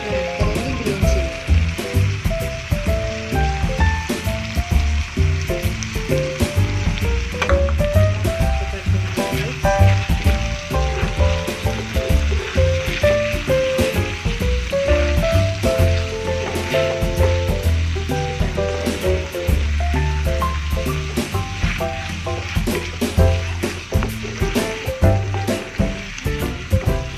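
Tomato, capsicum and green chilies frying in a pan, with a loud, continuous sizzle and crackle and occasional stirring scrapes throughout, and no talking.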